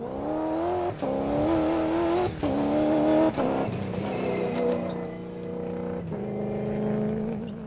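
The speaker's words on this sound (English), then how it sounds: "The pair are being chased down by the Castrol Toyota Hilux of Leroy Poulter and Rob Howie" Toyota Hilux and Nissan Navara rally trucks racing in an off-road desert race, engines roaring loudly with rising revs, brief dips at gear changes and a passing sweep.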